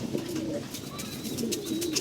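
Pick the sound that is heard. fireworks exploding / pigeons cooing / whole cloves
pigeons cooing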